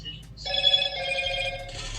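Motorola Moto G Pure (2021) phone with a Snapdragon 662 sounding a notification: a single bright electronic ringing tone held about a second, clear and close.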